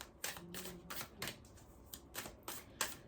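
A deck of affirmation cards is shuffled by hand in a run of crisp, papery riffles and flutters that come in quick bursts close to the listener, with brief pauses between them.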